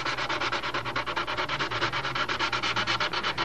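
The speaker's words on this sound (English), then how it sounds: "you know you still need to do a little sanding" Steady back-and-forth sanding with a sanding block on a smoothed surface coated with Aeropoxy Light, rapid even rasping strokes at a regular rhythm, close and alone with no talk.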